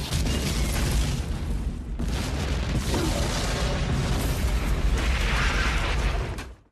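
Explosion sound effects play as a loud, dense, continuous roar of booms and crackling blasts, with a brief dip partway through, then rumbling on until they cut off abruptly.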